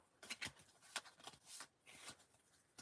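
Playing cards shuffled by hand, a string of soft riffling bursts and flutters, close and fairly quiet with no talk.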